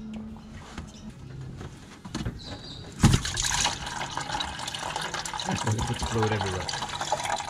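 Dirty coolant water draining from a racing car radiator after the bottom hose clamp is removed, a trickling, splashing pour that starts abruptly and continues steadily with faint handling noises.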